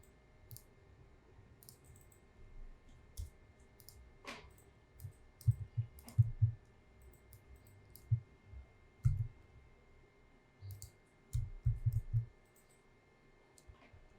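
Mouse clicks while coding in a taxi app, sounding as scattered, faint, close clicks at an irregular pace over a quiet background hum.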